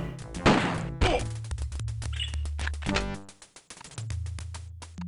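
Gunshots from the tactical combat game Jagged Alliance: two loud, sharp bursts close together near the start, then another, set among a rapid stream of clicking thuds over a low droning hum, with no talking.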